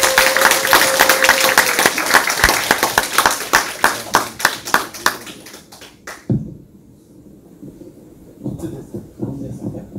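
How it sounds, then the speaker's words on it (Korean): Audience applause welcoming a lecturer to the stage at a history museum lecture hall, a dense burst of clapping that thins to a few scattered claps and fades out, followed by quiet room sound and a speaking voice. "큰 박수로 환영해 주시기 바랍니다."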